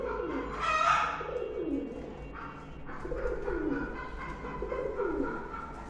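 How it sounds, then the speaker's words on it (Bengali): A red-eyed pigeon coos close up in several low, rolling phrases, one after another, with slight background noise between them. "এই দেখুন লাল চোখের কবুতর"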